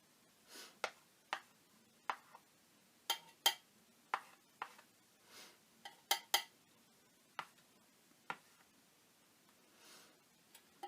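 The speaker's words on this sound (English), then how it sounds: "come in and make some marks with the side of my knife" A palette knife dabs and scrapes marks across the textured background of a painting, giving sharp, sparse taps and short scrapes at irregular intervals. They are close and quiet against a silent room.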